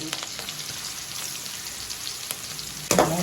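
Garlic sautéing in hot oil in a pan with ginger, green chilli and whole spices, a steady close sizzle with light stirring scrapes and a louder burst of frying near the end.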